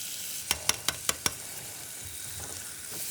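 Onions frying in a pan while an Indian eggplant caviar is cooked: a steady, fairly quiet sizzle with five quick clicks of a utensil against the pan in a row near the start, no talk.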